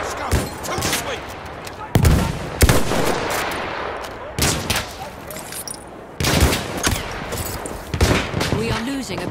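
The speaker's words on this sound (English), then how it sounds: "Machine gun!" Rapid machine gun bursts in a video game custom match, loud repeated volleys with short pauses between, mixed with excited player voices talking over the gunfire.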